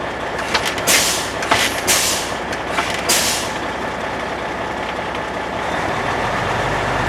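Truck air brakes fanned down during a pretrip inspection: sharp hissing bursts of released air repeat in quick succession over a steady engine idle, then fade to the idle alone.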